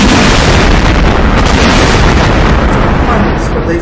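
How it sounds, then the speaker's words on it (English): A played recording meant to represent two neutron stars colliding in a massive cosmic explosion: a loud, dense, continuous rumbling roar with deep booming low end, sustained for several seconds without a break. "The massive explosion, and here is the actual sound of the collision."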